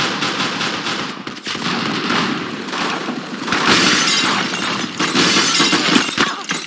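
Dense, continuous gunfire from the Roblox Arsenal video game, with rapid automatic bursts and sharp, shattering impacts layered loudly throughout.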